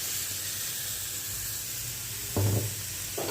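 Spice paste with ginger paste sizzles and hisses softly in a pan for chicken korma, a faint, steady frying sound broken by a couple of brief low knocks near the end.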